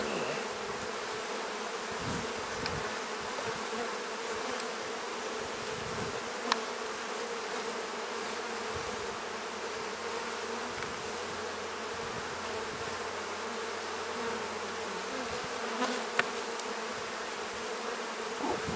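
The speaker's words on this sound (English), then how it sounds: "This hive is jam-packed with bees." Bees in a jam-packed hive hum in a dense, continuous drone, close and steady throughout with no pauses or voices.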